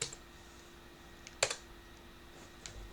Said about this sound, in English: So we have to type a Y this time.